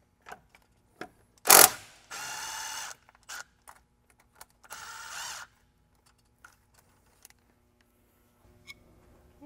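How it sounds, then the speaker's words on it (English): A quarter-inch impact driver loosening T-bolt clamps on a 6.7L Powerstroke charge tube gives a few short, loud mechanical bursts, two of them sustained for about a second, separated by clicks and quiet handling noises. "I like these impacts, these quarter inch impacts. They make really quick work of the T-bolt clamps."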